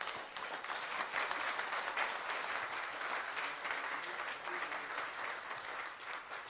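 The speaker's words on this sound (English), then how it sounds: "How about a round of applause for our panelists?" An audience at a conference on patents, standards and innovation applauds its panelists, a steady even wash of many hands clapping heard from a distance, sustained for several seconds at moderate volume.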